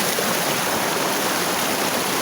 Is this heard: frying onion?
no